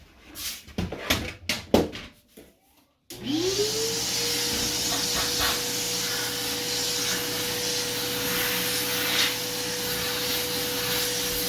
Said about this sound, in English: I'll vacuum it.